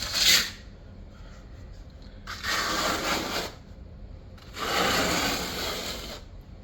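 A trowel rasps across porcelain tile, scraping off excess mortar in two long strokes after a short opening scrape, close and steady with no talking.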